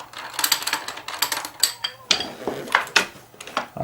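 A Thompson Center Dimension rifle stock is worked loose and lifted off, giving a close run of sharp metallic clicks, taps and rattles in quick irregular bursts, with no voice.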